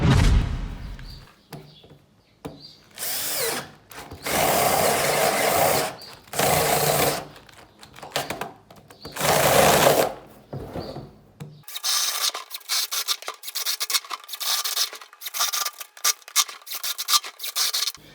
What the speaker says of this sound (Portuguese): Então agora eu vou pôr lá no banco e vamos furar a lateral dele.